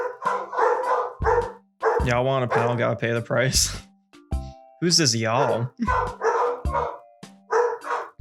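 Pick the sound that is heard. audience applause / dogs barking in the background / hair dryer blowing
dogs barking in the background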